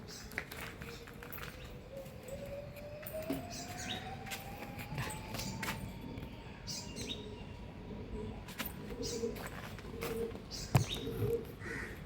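Pigeons, an adult with its chick, heard in the morning as soft coos and scattered chirps over a low steady background hum, with occasional faint knocks and a rising whistle-like tone in the distance.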